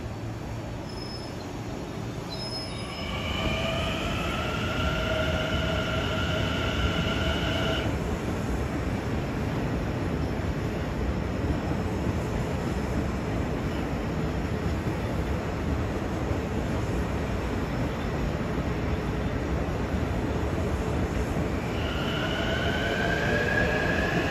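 A Long Island Rail Road train from Grand Central to Hempstead rolls steadily past at Elmont, with a continuous loud rumble of wheels on track. High metallic wheel squeals rise and fade twice as the cars go by.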